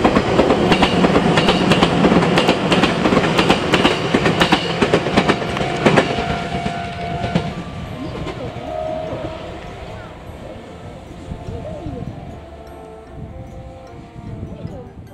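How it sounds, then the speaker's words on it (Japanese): A Meitetsu 6000 series special train with a restored white-stripe livery, running on the Nishio and Gamagori lines, rumbles past loudly with rapid wheel clatter that fades as it moves away, while a voice talks over it. "西尾から関係者のみを乗せた臨時列車です"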